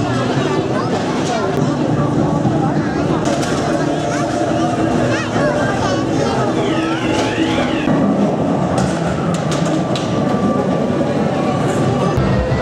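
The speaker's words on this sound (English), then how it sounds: "So there's the remodeled ghost train." A remodeled ghost train ride at Blackpool Pleasure Beach, where a continuous loud rumble and clatter of the ride car runs throughout, mixed with crowd babble and voices in a busy amusement park setting.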